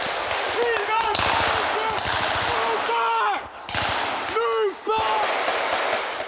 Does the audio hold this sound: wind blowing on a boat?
no